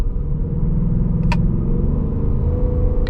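A 2024 Ford Mustang GT's engine rumbles deep and loud during paddle shifting with its 10-speed automatic in normal mode, a steady low drone with brief clicks or ticks.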